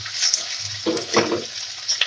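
Food fries in hot oil with a soft, continuous sizzle and a few light crackles and stirring scrapes, close by and brief.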